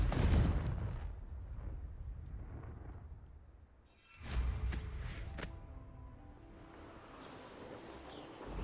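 The Confringo blasting spell goes off in the video game Hogwarts Legacy as a sudden fiery blast midway, after a booming rumble fades out, and leaves a lingering crackling tail over quiet game ambience.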